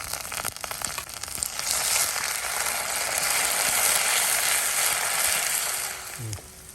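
Onions fry in a pan with ginger garlic paste for egg kheema masala, giving a steady, moderately loud hissing sizzle that swells and then tapers off near the end.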